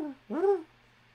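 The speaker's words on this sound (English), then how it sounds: "you hear the owls go" A single owl hoot sounds in a quiet night forest setting, a short, clear rising-and-falling call preceded by a brief fading tone, with near silence around it.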